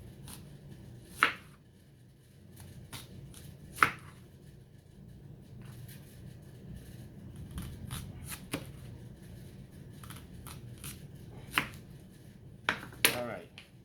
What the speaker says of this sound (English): We'll go ahead and slicing these, Don't want them too thick.